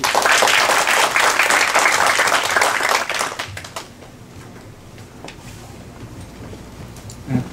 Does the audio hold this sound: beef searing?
no